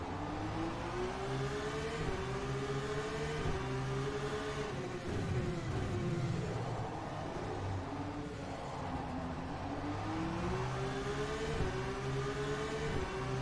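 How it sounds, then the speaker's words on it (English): Formula 2 race car engine in the sim racing game rFactor 2 on the Baku circuit, droning steadily as it climbs through revs and shifts gears in repeated rising sweeps, continuous and without talk. "The car is Formula 2 spec there, Brendan."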